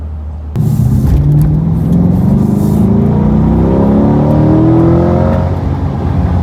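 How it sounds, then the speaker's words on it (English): A Chevrolet Corvette C8 with the Z51 package accelerates hard, its mid-mounted engine rising in pitch through the rev range as heard from inside the cabin, loud and continuous. "Sounds really good too because the engine's right behind me."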